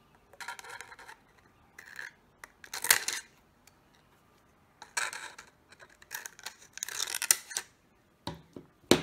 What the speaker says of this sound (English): So now there's a cut here and here, and then I'll go these two opposite sides.